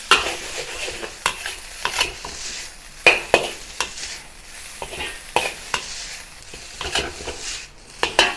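Mushroom fried rice with egg, carrot and peas hisses in a hot pan while a utensil scrapes and clinks against the metal in quick, irregular strokes, the sizzle steady beneath the sharp taps.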